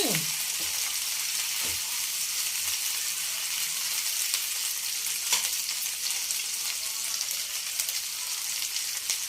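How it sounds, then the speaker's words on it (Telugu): Ginger garlic paste frying in a pan of oil, a continuous bright sizzle with a few soft stirring knocks near the start, close and steady throughout. "బాగా వేగిన తర్వాత అల్లం వెల్లిపాయ పేస్ట్"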